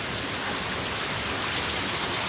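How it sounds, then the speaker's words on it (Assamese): Heavy evening rain pours down in a dense, unbroken hiss, loud and close, with no voices. "বৰষুণ কেনেকুৱা ঢালিছে, একদম বেলেগ ঢালিছে আৰু বৰষুণ"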